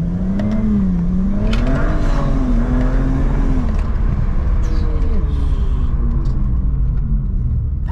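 A turbocharged car with an eight-speed gearbox revs up hard from low in first gear, its pitch climbing steadily as it accelerates, with a constant heavy rumble throughout.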